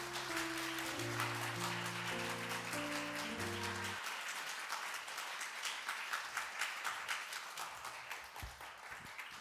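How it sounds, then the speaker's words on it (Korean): An audience at a church seminar on cults claps loudly to welcome a guest speaker, with dense, sustained applause starting under closing organ-like tones, then carrying on alone and slowly thinning. "크게 박수하시겠습니다."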